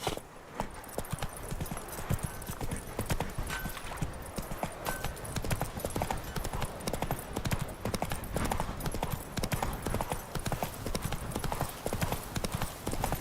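Roach, the horse in The Witcher 3, gallops with a steady, fast clip-clop of hooves that carries on throughout, loud and close, over a continuous game ambience.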